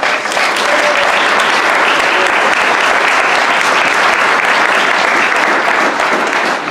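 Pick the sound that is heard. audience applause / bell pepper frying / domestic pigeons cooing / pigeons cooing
audience applause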